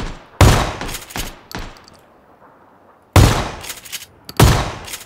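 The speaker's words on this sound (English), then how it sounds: "I've hit him three times with this shotgun." Loud, close shotgun blasts in a clay pigeon shooting squads video game, two sharp reports early, a quieter gap, then two more heavy shots, each with a ringing decay.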